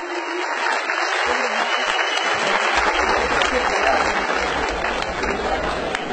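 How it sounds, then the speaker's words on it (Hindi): An audience at a ceremony in Himachal Pradesh honouring a martyr's family claps loudly and steadily throughout, a dense wash of applause from a crowd. "जोरदार तालियां हो जाए प्लीज।"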